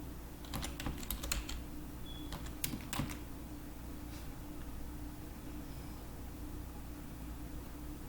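Someone types on a computer keyboard in short bursts of clicking keystrokes, fairly close, with a steady hum of room noise underneath and no talking.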